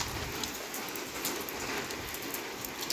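Steady rain falls on a surface, a continuous hiss with scattered drops pattering throughout, no voices.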